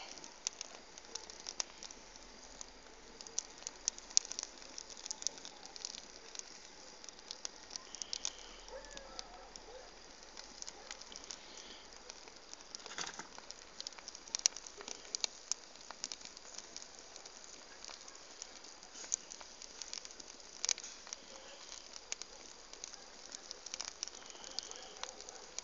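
A village bonfire crackles outdoors with soft, irregular pops and snaps that continue over a quiet, hissing background throughout.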